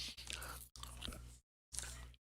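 Goldfish crackers crunched close up in two bursts of crisp chewing, a brief silent pause, then another round of crunching alone with no talk.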